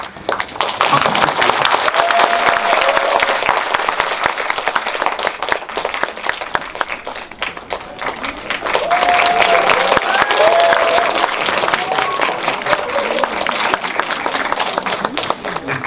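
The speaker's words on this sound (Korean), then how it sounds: "큰 박수로 맞이해 주시면 이렇게 모시겠습니다" An audience at a film screening talk in a cinema applauds with sustained, dense clapping that swells and dips across the stretch as the director and actors are welcomed, with a little crowd noise mixed in.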